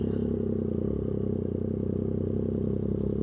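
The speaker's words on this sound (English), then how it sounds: "hopefully you could hear the exhaust a little bit better" Triumph 765RS motorcycle with an aftermarket exhaust and tune, heard from the rider's position while riding: a loud, steady low engine drone with rapid pulsing exhaust beats and wind rumble, no speech.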